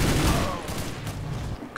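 Gunfire in the shooter game CS:GO comes as a dense, close burst of overlapping rapid shots, loud at first and then tapering off.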